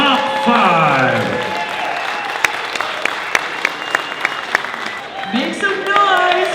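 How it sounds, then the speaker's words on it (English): A crowd at a gravel cycling race podium ceremony applauds while an announcer speaks over amplified sound, with scattered claps under the voice and music. "One more round of applause"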